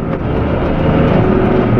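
A tractor engine runs loud and close during a gear change, giving a steady dense rumble that stays constant throughout with no speech.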